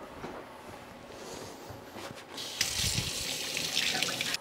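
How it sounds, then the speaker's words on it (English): Tap water running into a roasting pan for making stock in a home kitchen, a steady gentle stream that grows brighter and fuller partway through as the pan fills, quiet and close with no talking. "now I'm going to put water on this and make my stock"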